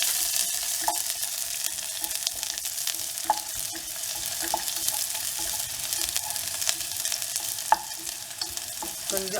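Onion frying in ghee in a pan gives a soft, steady sizzle with occasional light pops and clinks from stirring, close but fairly quiet throughout, with no voices.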